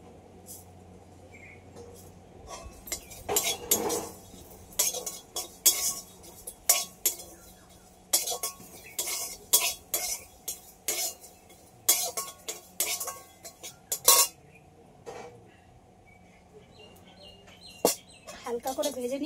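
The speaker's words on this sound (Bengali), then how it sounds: "এগুলো সব একসাথে একটু হালকা করে ভেজে নেব।" Cumin and radhuni spices lightly frying in a pan for a rohu fish curry, with repeated metallic clinks and scrapes of a spoon stirring against the pan, close and irregular, over a quiet background with faint birdsong.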